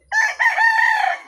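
A rooster on a Filipino backyard chicken farm gives one crow, loud and close, rising and then holding.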